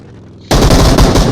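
Rapid automatic gunfire in a battle royale video game bursts in suddenly after a quiet moment, a loud dense stream of shots that fills the rest of the clip.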